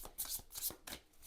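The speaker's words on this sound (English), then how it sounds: "Shuffling is a breeze." A Witches' Wisdom tarot deck shuffled by hand, giving three quick, crisp riffling bursts of cards in close succession, near and fairly quiet, with no talk.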